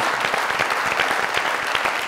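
Loud, dense applause from a studio audience at a comedy talk show, steady clapping filling the whole stretch with no pauses.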